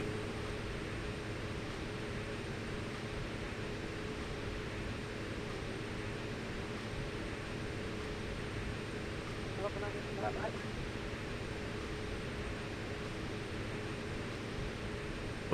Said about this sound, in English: I'm gonna turn the PC-12 down a bit too. I feel like it's a bit loud.